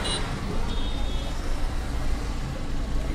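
Dense traffic stuck in a heavy highway jam: a constant rumble of cars, buses and trucks with a faint horn, heard near and steady.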